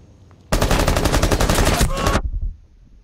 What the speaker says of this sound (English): Can't tell if I love or hate the LMG.